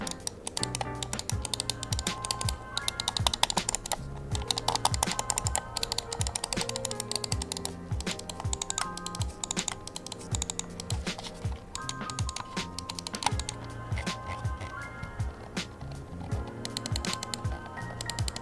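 Rapid, close-up plastic clicking of EWEADN S7 computer mouse buttons in quick irregular bursts, continuing steadily with faint music in the background.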